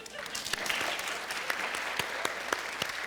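Steady applause from a sizable audience, continuous dense clapping with a few sharper claps standing out, fairly close and loud throughout.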